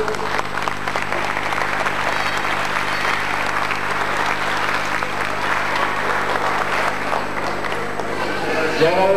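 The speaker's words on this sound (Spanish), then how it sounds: "Para el aplauso de todos ustedes." Sustained audience applause fills a Rotary leadership-handover ceremony, a dense, steady roar of many hands clapping at a constant level for several seconds, with faint voices mixed into the crowd.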